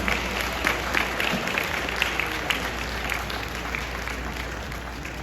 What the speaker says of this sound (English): Could you give them a loud round of applause again this evening?